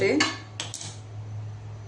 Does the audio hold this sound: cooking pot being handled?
yes